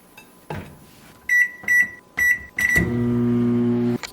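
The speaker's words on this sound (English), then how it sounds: "I put this in the microwave for about, I think it's like 2 minutes and 50 seconds." A microwave oven cooking popcorn: a series of short beeps as the buttons are pressed, then a loud start-up clunk followed by a steady electric hum that runs for about a second before another beep.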